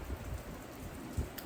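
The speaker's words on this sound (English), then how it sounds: "Yes, it's raining, it's refreshing, it's wonderful" Heavy July rain in Texas gives a soft, continuous hiss of falling water, faint and even throughout, with a couple of low thumps.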